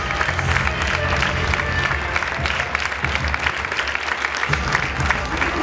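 Crowd at the 2015 Relay for Life of Boston College applauding and cheering cancer survivors as they walk the opening lap around the track, a steady dense wash of clapping with scattered cheers throughout.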